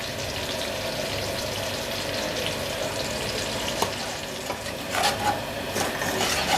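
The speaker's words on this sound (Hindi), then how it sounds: "अब इन मसालों को चंद सेकंड के लिए भून लें" Ground spices such as crushed and powdered red chilli, turmeric and coriander powder with salt fry steadily in a pan for dhaba-style aloo karahi, a continuous close sizzle with a few scraping stirs toward the end.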